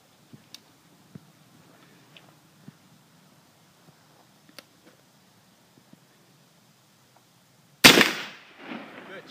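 Black powder gun fires once at an outdoor shooting range, a single loud booming blast near the end after several seconds of faint ticks and quiet background sounds.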